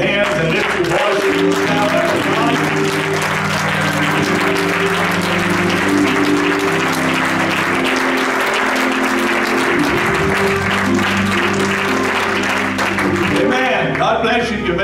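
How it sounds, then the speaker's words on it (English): A church congregation claps hands together in steady, continuous applause through most of the stretch, loud and close, with a sustained organ or music bed underneath and voices mixed in. "clap your hands and lift your voice."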